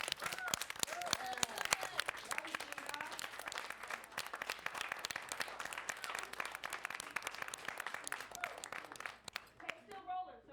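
Sustained applause from a crowd, dense steady clapping throughout with some voices mixed in, fading out at the very end.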